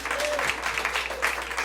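A comedy show audience claps and cheers briefly when asked to vote for Hillary. The short burst of moderate applause mixes with some crowd voices.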